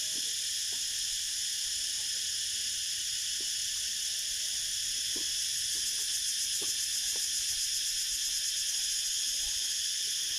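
Steady, shrill insect chirring from a dense chorus of crickets on a hot day at a farm in Phang Nga, Thailand, continuous and fairly loud throughout, with a few faint clicks in the background.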